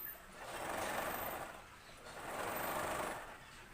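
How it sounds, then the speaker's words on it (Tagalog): A sewing machine runs straight seams along the side lining of a large dress being resized smaller, in two steady, even bursts of rapid whirring stitching with a brief slowdown between them, close and alone without talk. "tinatahi ko na yung pinaka lining niya sa gilid"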